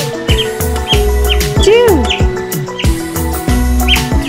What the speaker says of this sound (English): 1, 2 birds are on the branch. And also 4 birds are flying.